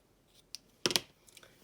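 Scissors snip loose threads while hemming a pair of sewn shorts, giving a quiet tap and then a short cluster of crisp, close cutting clicks followed by a few faint ticks.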